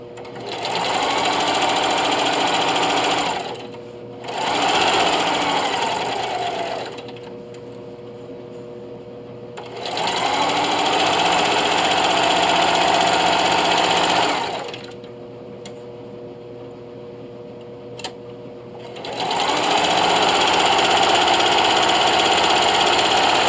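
Long runs of a sewing machine, loud and close, quilting diagonal lines across a hotpad, its rapid motor hum and needle chatter starting and stopping in several bursts separated by quieter pauses.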